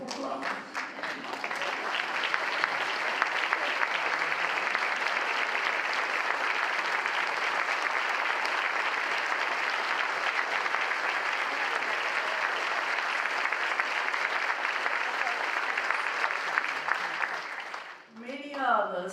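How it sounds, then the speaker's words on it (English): A large audience at an awards night applauds loudly and steadily for about seventeen seconds, a dense continuous wash of clapping that fades out near the end. "Will you please join me in rising and giving a great round of applause?"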